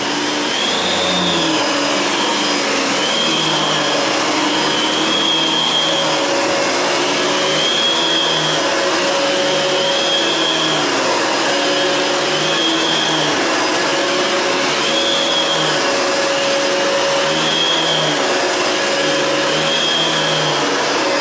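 A Fantom vacuum cleaner runs on carpet with a steady loud motor whine and a faint rhythmic swish as it is pushed back and forth in regular strokes.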